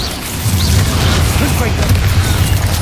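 Confringo blasting spells bursting in a Hogwarts Legacy battle with giant spiders, heavy low booms rolling continuously through a loud, dense fight mix of impacts and magical effects.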